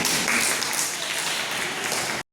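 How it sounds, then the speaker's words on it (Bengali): A crowd applauds at an awareness program on transgender rights, a dense wash of clapping that runs for about two seconds and then cuts off abruptly. "থ্যাংক ইউ অস্মিতার জন্য হাততালি"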